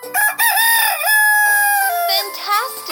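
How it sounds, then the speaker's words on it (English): A rooster crows from a kids' animal puzzle video game: one loud, clear, drawn-out cock-a-doodle-doo with a rising start and a long held tone, standing alone. "Rooster."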